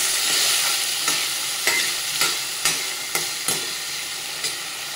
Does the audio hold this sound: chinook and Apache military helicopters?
no